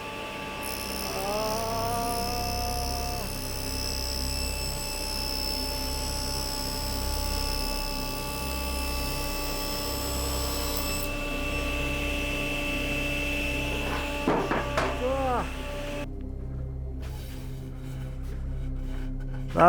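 A table saw cutting wood, its blade looking wobbly though tightened, holds a steady, loud motor whine with sustained tonal hum and slight shifts in pitch, alone without speech.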